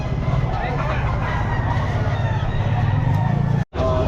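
At a pet market selling game fowl, a rooster crows near the microphone among clucking birds, with people talking and a busy crowd murmuring behind, before a brief dropout near the end.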